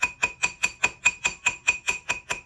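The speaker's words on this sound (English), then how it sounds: "I'm just gonna take this rounded side of the planishing hammer" Rounded face of a planishing hammer lightly tapping a metal stacking ring, about a dozen evenly spaced bright metallic ticks with a ringing tone, close and steady, no talking.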